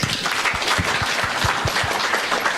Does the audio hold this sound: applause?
yes